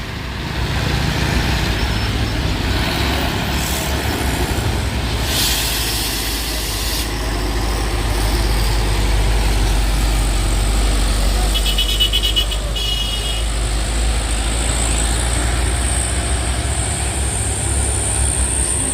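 Truck and car engines rumble steadily along a hilly road at Bukit Kodok, a continuous low drone with passing vehicles and faint higher whines, no talking.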